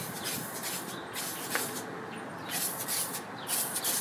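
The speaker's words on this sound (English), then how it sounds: "Normally I would wait for like a warmer day to spray paint the frame." Spray paint hissing from an aerosol can onto a bike frame outdoors, close bursts of airy spraying in several pulses with brief pauses between them.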